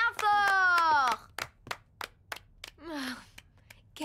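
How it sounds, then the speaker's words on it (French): A short round of handclapping follows a rising, singsong musical flourish for the triplets' circus act in their bedroom, made of a handful of crisp, spaced claps that trail off quickly. "On l'applaudit bien fort."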